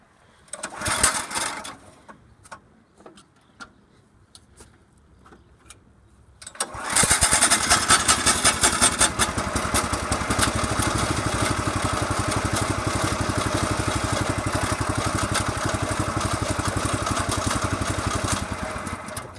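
Garden tractor engine after a cold start: a few faint clicks and knocks, then the small engine catches and runs loud and close with a steady, rapid idle chatter that carries on to the end.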